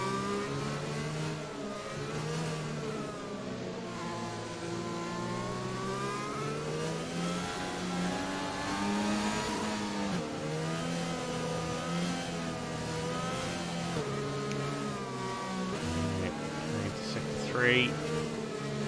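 A Mercedes AMG safety car and race cars in a PC racing game at Abu Dhabi, with engines droning and revving continuously at steady loudness beneath a commentator talking throughout.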